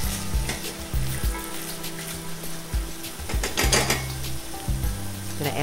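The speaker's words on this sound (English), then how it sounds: "I've added my ground pork to a small saucepan," Ground pork sizzles loudly in a small saucepan while a utensil breaks it apart, with a busy crackle and intermittent scraping strokes and low repeated tones underneath.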